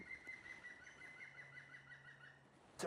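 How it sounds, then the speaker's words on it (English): A woodpecker in Bulgaria gives a rapid series of repeated calls at a distance, faint but clear over quiet outdoor ambience. "It's a woodpecker."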